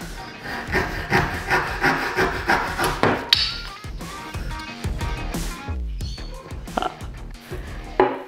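Hand saw cutting wood for a DIY rolling bench, a steady run of rhythmic back-and-forth rasping strokes up close, then a few sharper knocks and scrapes of the workpiece being handled.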